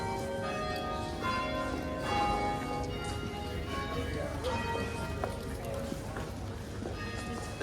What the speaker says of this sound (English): some church bells